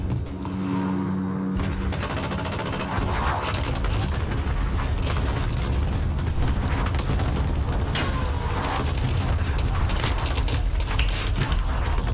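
Dense, continuous rumbling blasts and booms of cluster strike explosions in Call of Duty: Modern Warfare, layered and sustained with a brief quieter moment near the start.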